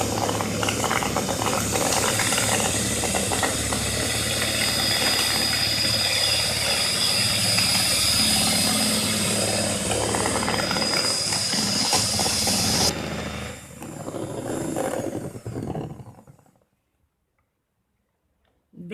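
Electric hand mixer whipping cream for pineapple ice cream, a loud steady whirring drone held for over twelve seconds, then dropping in pitch and level before stopping, with silence at the end.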